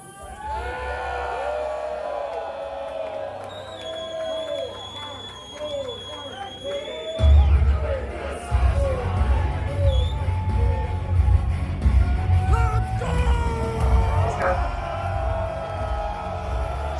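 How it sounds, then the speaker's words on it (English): Wrestling arena crowd cheering and yelling for Hungarian wrestler Hunyadi Tamas, a dense roar of whoops and shouts that surges louder midway, with a commentator talking over it throughout. "hearing the crowd react to a guy like Hunyadi Tamas"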